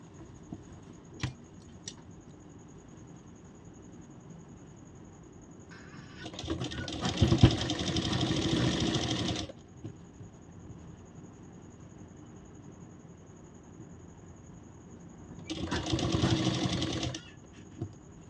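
A sewing machine stitching a blouse, two bursts of fast whirring stitching, the first about three seconds and the second shorter, separated by quiet handling and small clicks.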